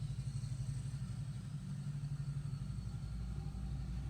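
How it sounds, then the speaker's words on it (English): Motorcycles and other traffic in a residential neighborhood make a steady, moderately loud low rumble of engines that runs unbroken throughout. "Sounds like a motorcycle convention around here."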